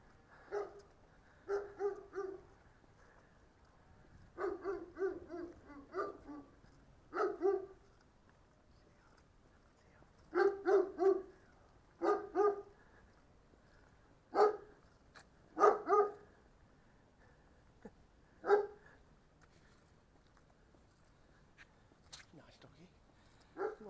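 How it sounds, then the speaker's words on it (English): A dog barks in short clusters of two or three, scattered irregularly and at moderate distance, with quiet gaps between bursts. "That's a nice dog."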